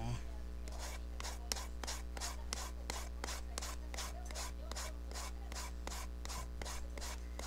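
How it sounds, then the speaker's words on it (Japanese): Leather being filed by hand during a leather craft project, a steady rhythmic rasp of about two strokes per second, close and even over a low constant hum. "ここでヤスリがけをします。"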